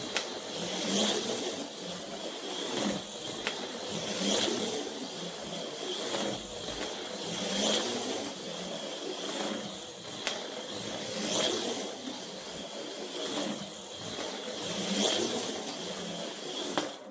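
Autoworld Datsun 510 X-Traction HO slot cars race around a small track, giving a continuous thin whirring hiss that swells and fades in repeated laps, punctuated by brief clicks, with no talking.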